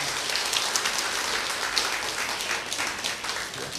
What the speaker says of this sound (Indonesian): kita berikan tepuk tangan buat mereka